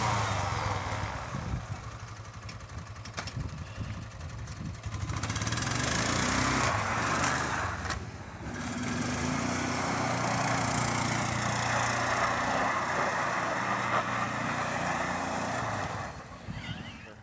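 A Kubota BX2822 compact tractor running a 55-inch front-mount snowblower gives a continuous loud engine drone with a broad rushing hiss, steady for most of the stretch with a brief dip midway.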